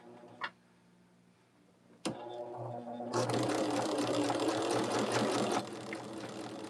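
A sewing machine stitching quilt block fabric starts after a couple of clicks and then whirs steadily and close for a few seconds before easing off.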